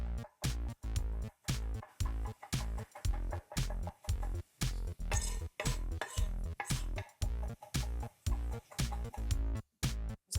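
Knife rapidly mincing fresh garlic on a cutting board for marinara sauce, a steady run of sharp close chopping taps over about ten seconds, no talk.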